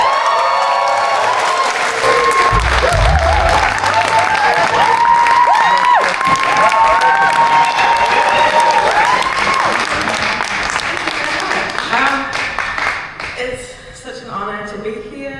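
A concert audience in a Leeds assembly room claps and cheers loudly and steadily, with whoops and shouts layered over the applause before it thins out near the end.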